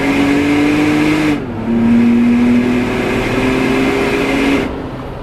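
Loud, steady engine drone with a low exhaust roar that dips briefly and rises again as a supercharged third-generation Toyota Tacoma accelerates, heard from close inside the cab, with the exhaust exiting right under the seat.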